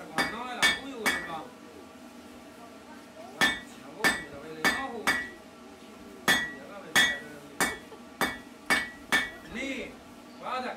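Blacksmith's hammer shaping a hot iron nail into a four-sided point at a forge: sharp ringing metallic strikes in irregular bursts, some single and some in quick pairs, with a faint voice between blows.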